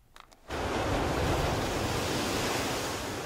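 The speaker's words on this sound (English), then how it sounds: "Massive waves lashing at the shore in the eastern county of Hualien as Typhoon Epatak moves closer to Taiwan." Massive typhoon waves lashing the shore in Hualien, Taiwan, as a loud, steady roar of surf and wind that swells in after a brief quiet start and holds without a break.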